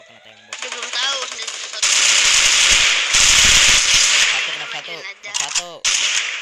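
Rapid bursts of automatic gunfire and shots in the battle royale game Free Fire crackle loudly and close, in dense volleys with brief gaps, while players talk over them.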